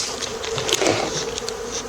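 Dense, loud buzzing of many honeybees swarming close around an opened hive in an apiary, continuous and alone.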